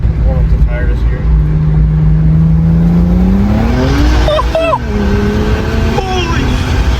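Ford Mustang GT on a back road revving and accelerating hard to warm up its tires, the engine note climbing loudly, dipping, then rising again, with talking over it.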